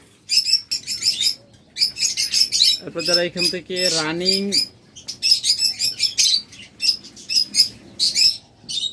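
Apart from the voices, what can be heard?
budgerigar love birds chirping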